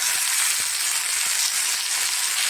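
Ingredients for radish rasam frying in a pan, a loud, dense, continuous sizzle with a few faint taps of stirring underneath.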